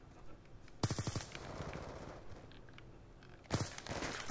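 Two bursts of rapid gunfire from a Black Ops 2 multiplayer match, a short automatic volley followed by a second one a few seconds later, with quieter game noise between.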